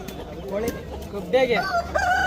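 Aseel roosters crowing at a busy Monday poultry market in Hindiganala, a couple of drawn-out crows rising over crowd murmur, fairly close and loud against the market background.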